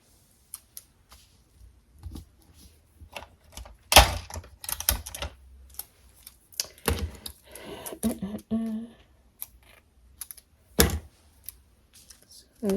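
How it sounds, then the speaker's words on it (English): Sharp tearing and pressing of tape while securing a reversed sublimation print for a door mat repair, a burst of crisp tape rips and handling knocks in separate bursts, close and moderately loud. "I am going to tape it down"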